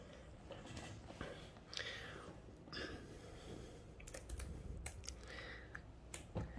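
Typing on a computer keyboard in a Word document, soft irregular key taps at low level with faint breathing nearby.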